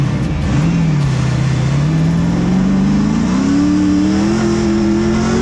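Race cars accelerate on a drag or circuit track, with one engine near and loud, its roaring pitch climbing steadily through the gears. The sound is continuous and there is no speech.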